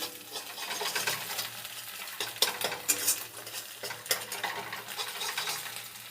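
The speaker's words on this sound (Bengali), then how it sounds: "লঙ্কা কুচুগুলো এবার আমি হালকা তেলে ভেজে নেব।" Carrots, onions and chopped chilies frying in a little oil, a steady close sizzle with scraping and clinking of a utensil stirring against the pan throughout, no voices.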